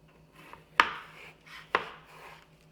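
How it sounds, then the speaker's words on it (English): Knife slicing a cucumber into quarters on a cutting board, two sharp chopping strikes roughly a second apart, close and crisp with a faint scraping between them. "We're going to go ahead and slice that one more time into quarters"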